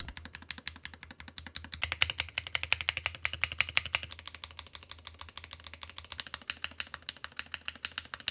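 Stabilized keys on a MelGeek MADE68 Pro gaming keyboard with doubleshot ABS keycaps are pressed repeatedly, giving a fast, even train of crisp, close clacks with no rattle, alone and without talk.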